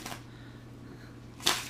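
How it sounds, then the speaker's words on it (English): A deck of Magic: The Gathering cards being bridge shuffled, a faint soft riffle near the start followed by a louder, brief crisp flutter of cards snapping together at the end. "I'm gonna bridge shuffle them anyways because I'm just that kind of guy"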